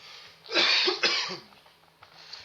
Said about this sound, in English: hold on before I cough.